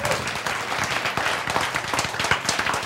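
A lecture audience breaks into dense, continuous clapping that stays fairly even for a few seconds, heard from within the room.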